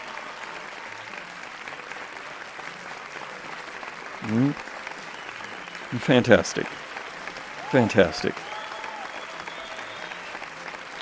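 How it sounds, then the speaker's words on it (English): Audience applause breaks out at a game awards event after a winner is announced, a steady crowd clapping that runs the full length, with a voice speaking briefly over it in a few loud bursts. "Let's have a round of applause for that one."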